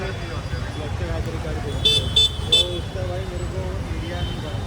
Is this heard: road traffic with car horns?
yes